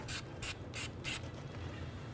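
Four short, sharp hissing bursts of anti-seize compound from an aerosol can, sprayed while fitting a front ABS wheel speed sensor on a 2007-2014 Cadillac Escalade, evenly spaced with a quiet pause after the last.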